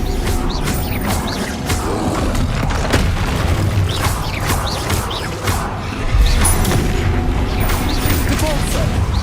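Spell blasts and booming magical impacts from the video game Hogwarts Legacy, a dense, continuous barrage of crashes and bursts with a louder surge near the end.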